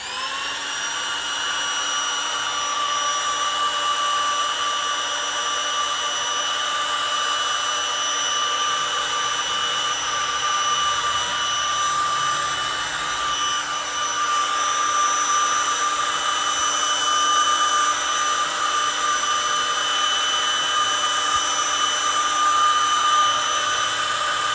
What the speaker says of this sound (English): I have a little pump that blows out air just like a fan